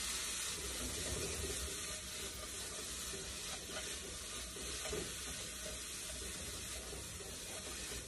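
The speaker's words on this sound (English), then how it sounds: "drop my onions in there, saute them around" Chopped onions sauté in a hot pan with a soft, steady sizzle and occasional stirring. The sound stays quiet and close, with no talking.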